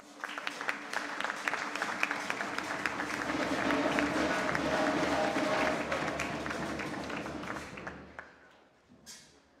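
Audience applause at a regional oratory contest final in Chiriquí, a broad steady clapping that swells through the middle and fades out near the end, with voices mixed faintly beneath.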